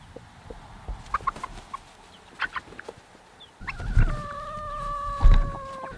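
Rhode Island Red chickens in a coop make scattered short clucks and peeps, followed by louder, sustained calls and a couple of thumps, fairly close, with no speech.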